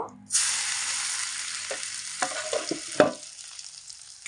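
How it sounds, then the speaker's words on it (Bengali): Whole cumin and half-crushed garlic cloves hit hot oil with a sudden loud sizzle that settles into a steady crackle, broken by a few spoon scrapes and clanks from stirring. "এখানে কয়েকটা রসুনের কোয়া হাফ বাটা করে নিয়েছি, সেটাও তেলের মধ্যে দিয়ে দেব"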